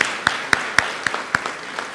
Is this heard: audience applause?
yes